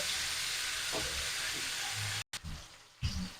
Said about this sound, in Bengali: আর 2-1 মিনিট ভেজে নেব।